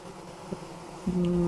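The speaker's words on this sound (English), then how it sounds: "There's an angry hive." Angry bees buzzing around a hive in the Vintage Story survival game, a low steady drone with a single higher whine joining near the end, fairly faint with no talking.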